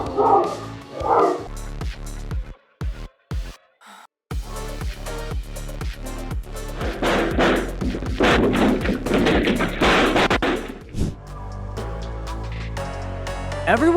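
Dog barking caught on police dashcam footage, a burst of loud, rapid barks and yips, with whimpers and thuds mixed in, over a stretch of music.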